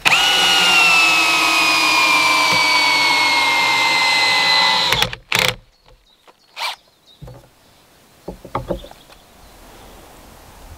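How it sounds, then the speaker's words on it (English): Power drill driving long bolts with washers down into a curved window frame in an off-grid earthbag workshop: a steady, loud whining run for about five seconds that stops, followed by a few short bursts and clicks. "So we're just going to put in some of these big long bolts, washer on them, fix that down into here."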